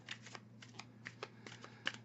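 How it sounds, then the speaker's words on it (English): A rather large tarot deck is shuffled by hand, giving soft, quick riffling card flutters in a quiet room over a steady low hum, with no talking. "You see me shuffle. This is a rather large deck"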